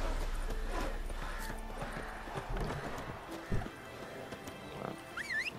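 Horse hooves clip-clopping at a gallop in The Witcher 3, with a brief whinny near the end, the steady hoofbeats carrying through the whole stretch alone, with no talk.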